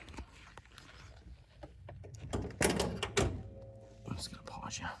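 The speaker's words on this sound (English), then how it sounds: "Doors only shut like that when they're original." Original door on a 1979 Camaro Z28 with its original 350 slamming shut, giving a couple of solid, heavy thunks close by over a low background of rustling and faint voices.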